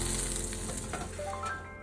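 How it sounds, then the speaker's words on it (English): Pork chops sizzle steadily in a hot frying pan, finishing in a sauce, with a loud, continuous crackling hiss throughout and no voices. "Listen to that sizzle."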